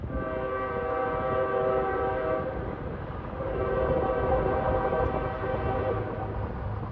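A westbound CSX freight train rolls past at Union, New Jersey, its multi-tone horn sounding loud and sustained over the rumble of the railcars.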